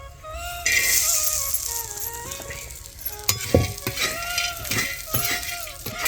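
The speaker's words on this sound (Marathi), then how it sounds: "आता धने टाकले असे तळतळू द्यायचे" Whole coriander seeds and dried red chillies crackle and sizzle while dry-roasting in a pan, with a steady frying hiss broken by scattered sharp pops and a few stirring clatters, close and fairly loud, with no talk.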